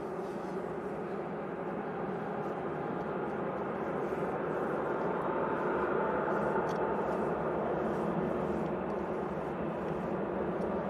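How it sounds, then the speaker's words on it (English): Aurigny ATR 72 turboprop from Guernsey on final approach into Manchester Airport, a steady broad engine drone held at moderate distance throughout, with faint background talk. "You've got the Aurigny ATR 72 from Guernsey now, basically on finals."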